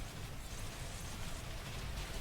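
Rain weather in the Pokemon Sword and Shield video game, set during a competitive doubles battle, plays as a dense, steady hiss of falling rain without pause.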